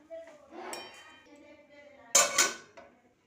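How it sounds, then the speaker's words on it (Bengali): Radish greens stirred in a pan with metal spoon clinks and scrapes, then a lid set down with a sharp metallic clatter near the end, close and fairly loud, no speech. "এবার শাকটাকে ভালো করে নাড়িয়ে ঢাকা দিয়ে দেবো সেদ্ধ হওয়ার জন্য।"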